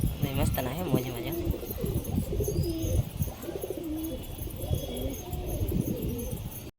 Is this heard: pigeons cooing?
yes